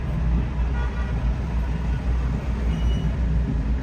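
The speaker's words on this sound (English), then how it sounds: "So far, this bus driver has been beeping the horn for like 30 blocks." A city bus horn in New York traffic on a hazy night sounds amid a constant, loud roadway rumble, with engines and traffic noise all around and no talk.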